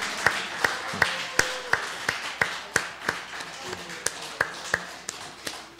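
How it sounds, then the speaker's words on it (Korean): A church congregation claps in a steady, evenly spaced rhythm as people leave the service, each sharp clap ringing in a reverberant hall, about two per second. "퇴장할 때까지 우리 박수로"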